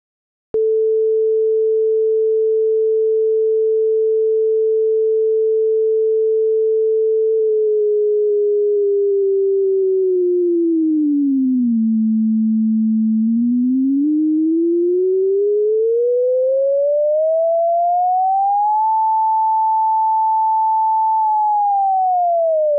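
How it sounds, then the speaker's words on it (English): A pure sine tone generated in a web browser holds a steady pitch, then slides down, rises gradually to a higher pitch and dips again as a slider moves, loud, continuous and alone. "we should also be able to hear the frequency changing or the pitch changing."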